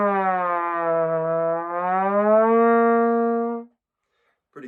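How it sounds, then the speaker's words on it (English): A trombone played by buzzing into the mouthpiece while the slide moves, giving one sustained brassy tone that sags and rises in pitch for several seconds, close and alone, before it cuts off. "So the way you change the sound is by moving the slide while you buzz."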